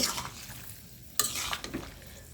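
Fried rohu fish heads and winter vegetables stirred in a pan, a gentle frying sizzle broken by a sharp scrape and several quick stirring strokes, close by with no talk.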